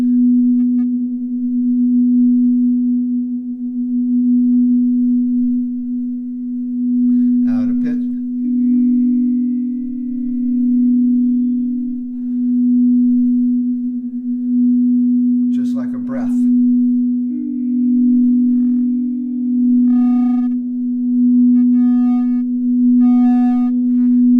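A singing bowl hums a steady, pure tone that swells and wavers slowly in loudness, with a couple of brief knocks and faint sounds over it.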